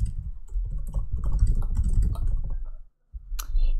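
Someone types on a computer keyboard while building a Google Form, a busy, close clatter of keystrokes that stops briefly, then a final sharp key tap, likely the Enter key.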